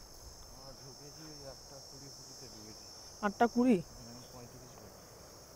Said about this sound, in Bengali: চারিদিকে ঝিঝি পোকার আওয়াজ